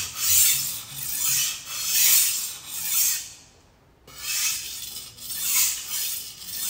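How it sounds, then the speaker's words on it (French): A knife blade drawn over the 600-grit side of a diamond sharpener makes rhythmic rasping strokes, about five close, even passes with a short pause in the middle. "je vais donner un très léger coup de finition sur le côté en grain 600 de l'aiguiseur diamanté"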